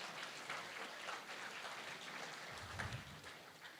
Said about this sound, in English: I do think that is worth a round of applause